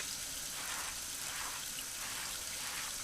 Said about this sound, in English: The water tap sound too.